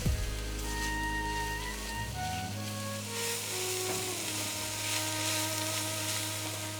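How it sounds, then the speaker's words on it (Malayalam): Onions sautéing with salt in a pan for Kerala-style duck mappas, a steady close sizzle and hiss with faint utensil tones ringing over it. "സവാളയൊക്കെ നല്ലപോലെ ഒന്ന് വെള്ളമൊക്കെ ഇറങ്ങി ഒന്ന് വഴലട്ട്."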